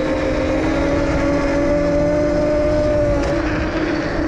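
Steady electric whine of a 72V electric pit bike capable of 45+ MPH riding over snow, a constant tonal hum with broad wind and track noise, close and loud throughout with a slight dip near the end.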